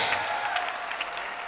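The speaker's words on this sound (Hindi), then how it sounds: "भरपूर तालियां होनी चाहिए।" An audience at a school farewell party claps in a brief, dense burst of applause that stays steady and fairly loud throughout.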